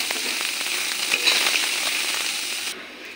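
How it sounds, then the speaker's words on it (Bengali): Soybean chunks and three eggs fry together in oil in a pan, giving a steady, close bright sizzle with crackles that runs unbroken for about three seconds before softening near the end. "দেখো আমার 3টা ডিম ভাজা করে নিয়েছি আর এই যে সয়াবিনটাও ভাজা করে নিয়েছি।"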